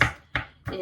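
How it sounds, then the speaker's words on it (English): A knife chopping ginger into tiny pieces on a board, three sharp close chops spaced about a third of a second apart. "You can go on to chop your ginger like this."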